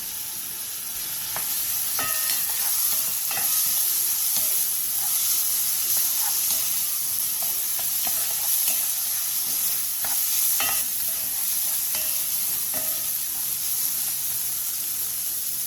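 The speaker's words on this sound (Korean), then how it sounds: "냄비에 기름 4스푼, 다진 마늘 2스푼, 다진 양파를 넣고 센 불에서 약 5분 정도 볶아주세요." Loud, continuous sizzling of minced garlic and onion stir-frying in hot oil in a pot over high heat, with crackles, spatters and occasional scraping from stirring; no voices.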